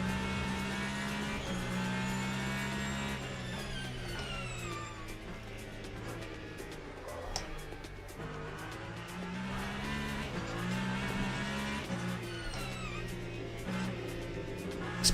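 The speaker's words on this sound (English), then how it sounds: "This car sounds like a washing machine." A Ferrari race car engine in a sim racing game drones with a whirring, humming tone, rising and falling with gear changes and revs, steady and fairly loud throughout.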